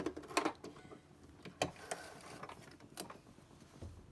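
A sewing machine runs two short backstitches while sewing a reusable makeup-remover wipe, with quiet irregular mechanical ticking and a few sharper clicks, faint and close.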